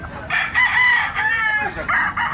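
A young rooster crows once, loud and close, with a wavering drawn-out call against faint background noise.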